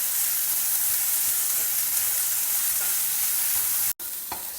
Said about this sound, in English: Add this also and saute it lightly together with the chana dal.